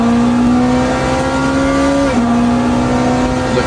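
A hypercar at the 24 Hours of Le Mans in Le Mans Ultimate holds a loud, steady, high engine whine on track. The pitch dips sharply once midway at a gear change, then carries on strongly.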